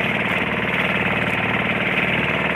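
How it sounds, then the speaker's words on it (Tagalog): An engine-powered fishing boat tows a smaller boat across the water, its motor putting out a loud, steady, throbbing drone that never changes pace, with no voices. "Hinila tayo ng bangkang makina para hindi tayo mahirapan ng sagwan."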